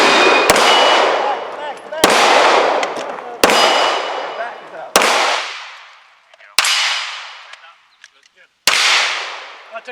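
Six sharp, loud gunshots crack at uneven intervals at a rod and gun club match, each blast ringing out with a long echoing decay across the range before the next.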